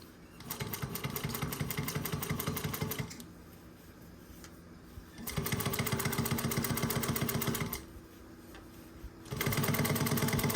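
A Juki 1541s sewing machine stitching suede onto cotton runs in three loud, fast, steady bursts of rapid needle clatter close to the mic, separated by short pauses where a lower motor hum carries on.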